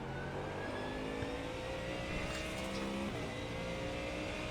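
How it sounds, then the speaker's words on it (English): Ford Mustang GT3 race car in iRacing picking up throttle in second gear on a corner exit, a steady engine drone rising in pitch, loud and continuous with a faint tyre whir underneath. "We start picking back up on the gas in second gear late on."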